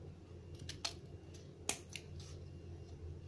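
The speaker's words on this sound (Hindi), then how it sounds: "लंबी स्ट्रिप काट लेती हूँ इस तरह से।" Scissors cut a long strip of paper for making a paper flower, heard as several quiet, close snips spaced irregularly against a soft room background.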